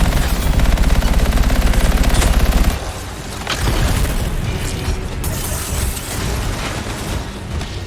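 Rapid automatic gunfire rattles in the PC game Anthem, a dense fast burst for a few seconds, then scattered shots, impacts and mechanical effects against a colossus battle.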